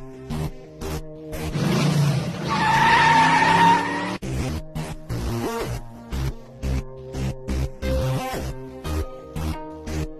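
A second-generation Toyota Vios engine runs badly with a misfire, its idle stumbling in an uneven, lumpy pulse after a louder swelling rev near the start.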